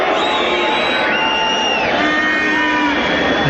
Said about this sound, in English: The crowd was still making noises.